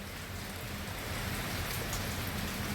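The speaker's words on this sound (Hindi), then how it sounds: "ये मेरा सोलर रूफटॉप लगा हुआ है और देखिए कितनी जबरदस्त बारिश आ रही है" Heavy rain pours steadily onto a rooftop fitted with solar panels, a dense continuous hiss with drumming patter that swells slightly louder toward the end, with no voices.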